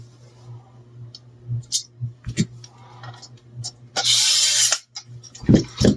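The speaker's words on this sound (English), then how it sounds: "And we can screw the pick rail in" A screw driven to fix the pick rail into a Nerf bolt action rifle hardware kit, with small ratcheting clicks and plastic handling noises, close up, plus a brief burst of a power driver whirring.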